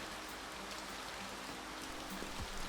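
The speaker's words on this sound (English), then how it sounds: "It's been raining sideways since noon." Steady rain pours outside during a typhoon in the visual novel game Hoshi Ori Yume Mirai, a dense, constant hiss of falling water heard alone with no voices.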